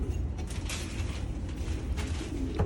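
Imported pigeons in a breeding loft coo softly beneath a steady background rumble, with faint creaks and rustles scattered across a short stretch.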